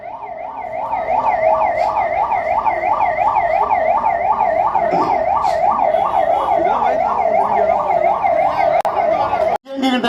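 Ambulance siren wailing loudly and continuously with a rapid rising-falling yelp, close by on a road amid a crowded political gathering, cutting off abruptly near the end.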